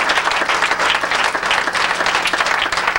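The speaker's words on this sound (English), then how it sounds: "just have a nice round of applause for Mr. Greenwich" At a 1995 Willingboro Hall of Fame induction ceremony, an audience applauds Mr. John Greenwich, with dense, even clapping that stays loud and close from start to finish.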